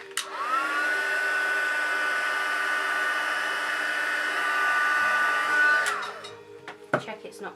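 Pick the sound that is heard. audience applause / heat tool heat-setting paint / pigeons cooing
heat tool heat-setting paint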